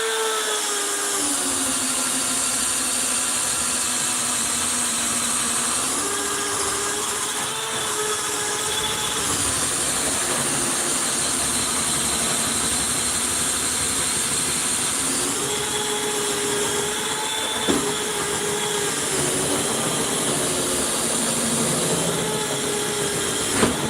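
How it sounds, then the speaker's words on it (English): An electric drill grinds continuously as it bores through a wall during electrical remodeling work, a loud, steady motor whine that shifts pitch a few times as the bit loads and frees up. "It's always a good sign when the drill goes all the way through, because you know you made it."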